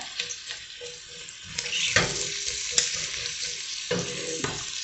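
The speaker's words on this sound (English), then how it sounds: "I'm going to go ahead and drop the rest of them in here" Onions frying and sizzling in a pot while being stirred, with scraping stirs and occasional clatter over a steady close hiss; no one speaks.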